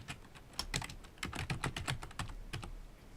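Keys clatter on a computer keyboard during an Excel spreadsheet exercise: close, crisp keystrokes arrive in quick irregular bursts with brief pauses between them.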